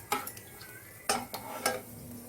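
Cinnamon and bay leaf are stirred in a pan for prawn biryani, giving three sharp metallic scrapes of a spoon over a low sizzle, close up.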